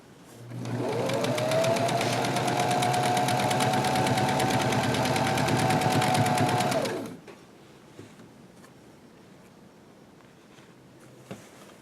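Sewing machine stitching the elastic-casing waist hem of fabric pajama pants, a steady loud buzzing whir running about six seconds, then stopping abruptly, leaving quiet room tone with a faint click near the end.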